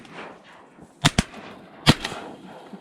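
Three sharp, loud shotgun blasts while duck hunting: two close together, then a third a moment later, over a quiet outdoor background.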